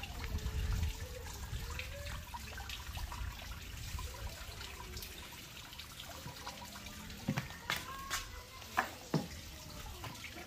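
Gayo coffee beans being washed in water, a soft continuous trickle and slosh with a few sharper splashes and drips toward the end, close and quiet, no voices.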